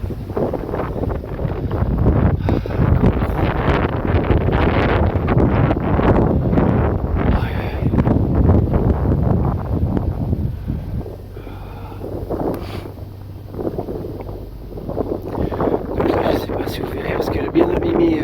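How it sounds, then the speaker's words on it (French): Gusty wind buffets the microphone outdoors in the Vosges in a steady low roar, easing briefly midway before picking up again; a voice talks faintly underneath. "On voit que là on est en plein vent"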